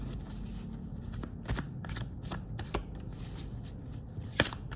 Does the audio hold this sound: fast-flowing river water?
no